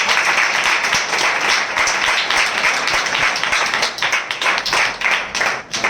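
Sustained applause from a church congregation, dense and steady clapping that carries on for several seconds before thinning slightly near the end.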